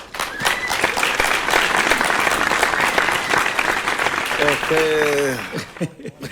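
Loud studio audience applause greeting a guest on a music talk show, dense and steady throughout, with a brief voice coming in under the clapping near the end.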